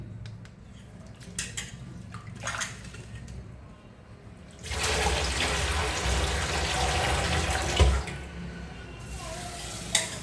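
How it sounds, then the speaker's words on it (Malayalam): Thin cassava sticks are rinsed in water, with splashing and sloshing close by that swells into a steady run of water for several seconds and then eases off. "ഇതിന് നമുക്ക് അതുപോലെ കഴുകി തോരാൻ വയ്ക്കാം"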